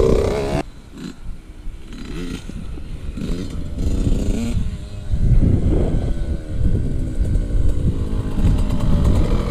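A Yamaha YZ 65 dirt bike engine revs and changes gears on a track, its rough buzzing rising and falling in pitch across the shifts, loud and continuous, with someone talking over it.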